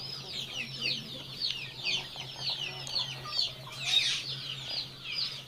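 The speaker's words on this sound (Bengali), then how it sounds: "এখন টাইগার মুরগি রয়েছে, দেখছেন টাইগার মুরগি" Tiger breed chickens on a poultry farm cluck and chatter continuously, a busy overlapping flock sound at moderate distance over a steady low hum, with no talk.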